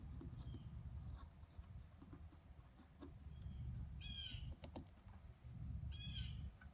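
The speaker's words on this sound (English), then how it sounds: "If you hear a bird, it's because I'm outside." Two short bursts of bird calls ring out outdoors over steady low rumbling background noise, each a quick rising chirp sequence.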